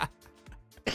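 A single short cough bursts out at the start and another rough cough-like burst comes at the end, with quieter throaty noises between them, close to the microphone and without talk.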